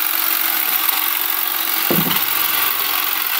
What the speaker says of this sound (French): Ouais, il l'a coupé. C'est une branche de sureau.